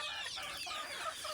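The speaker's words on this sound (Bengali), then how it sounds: "এই ঝুড়ির মধ্যে আমি এই মুরগিগুলো এইভাবে রেখে দিয়েছি।" Chickens kept in a basket on a winter morning give soft, close clucks and murmurs, a continuous low chatter at moderate volume with no voices.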